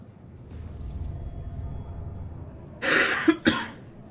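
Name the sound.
coughing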